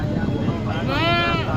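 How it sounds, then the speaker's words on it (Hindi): A single sheep at a livestock market gives one wavering bleat at close range, partly mixed with a man's speech and a busy crowd murmur. "ये भेड़ है"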